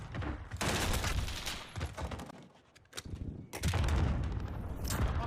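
Gunfire in a Call of Duty esports match, dense bursts of rapid shots and fusillades crackling across the mix, briefly thinning near the middle before another heavy volley; faint talk sits underneath.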